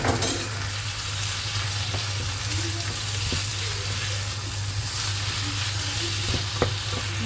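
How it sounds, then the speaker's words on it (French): Meat grills in a pan with a steady, loud sizzle and a constant low hum, broken by a few faint clicks and scrapes. "On va bien laisser griller la viande."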